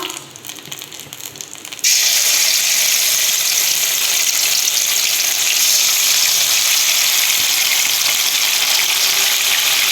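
Prawns dropped into hot refined oil, a sudden loud hissing sizzle that bursts in after a quiet moment and then holds steady and bright, close up with no talk.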